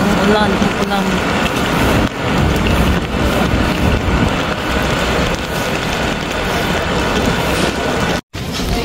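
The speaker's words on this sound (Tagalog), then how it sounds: "Umuulan guys." Steady rain falls close by in a broad, continuous wash, with wind buffeting the microphone throughout and a brief dropout near the end.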